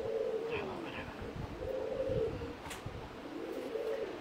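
Uzbek pigeons coo softly in repeated rolling phrases, a few calls spaced across the moment against a quiet background.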